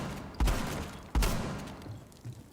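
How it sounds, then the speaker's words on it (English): Two loud shotgun blasts ring out in Rainbow Six Siege on the Presidential Plane map, each a sharp close report followed by a decaying echo, roughly a second apart. "This shotgun's really fun"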